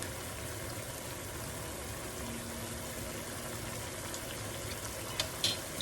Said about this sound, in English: Once it comes up to a boil